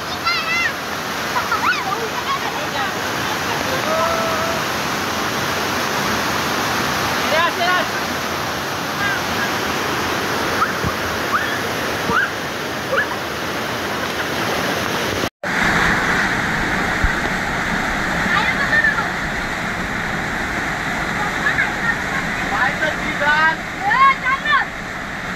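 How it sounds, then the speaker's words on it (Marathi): A waterfall pours below a river weir, a loud, steady broadband roar of heavily falling water that runs throughout, with a short break partway and a few faint sounds in the background. "बघा इकडे धबधबा आहे, वरती बंधार आहे."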